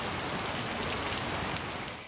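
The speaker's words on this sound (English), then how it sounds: "Heavy rain and winds have pummeled this rural town in the eastern county of Hualien" Heavy rain lashes down steadily during Typhoon Podul in rural Hualien, a dense, even hiss of drops on surfaces with gusting wind, fading out at the very end.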